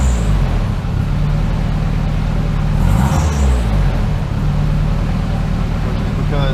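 Rough, rich-running idle from a turbocharged Nissan S13 engine around 1,100 to 1,200 RPM, a steady close low-pitched throb with slight unevenness throughout.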